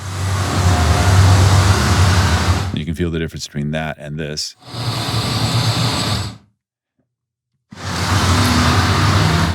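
Straight left-right traffic ambience of passing motor vehicles, a loud continuous road rumble that breaks off for a short spoken passage, returns, drops to silence and then comes back.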